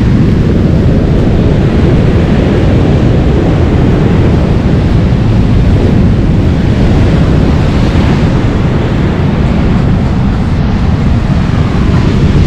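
Storm waves pound the beach at Lazarevskoye in Sochi, a loud, unbroken roar of surf and wind that stays dense and heavy throughout, with no voices heard.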